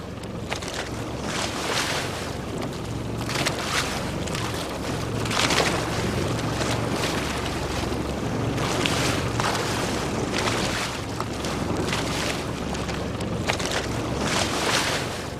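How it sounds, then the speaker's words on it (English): Oars turning in their locks as a fishing boat is rowed on open water, with a steady wash of water and wind noise and recurring splashes from the strokes, fairly close and continuous, no voices. "The oars in their locks go round and round."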